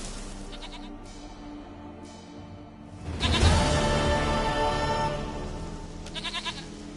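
A goat in The Witcher lets out a loud, wavering bleat close by, rising sharply and trailing off over a few seconds against quiet ambient background, with a shorter bleat near the end.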